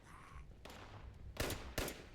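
Pistol shots in Fallout 76, a few sharp, separate cracks spaced apart, each a brief bright burst over quiet background.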